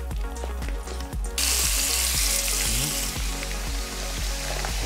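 Ground turkey sizzles and fries in oil in a pan for a sweet chili lettuce wrap dish, a steady, loud crackling hiss that swells suddenly after a quieter start, with faint utensil taps through it.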